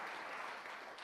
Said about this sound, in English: Let's give them a big round of applause for hosting